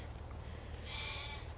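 A sheep on a farm gives one wavering bleat that stands out over a steady low background hum.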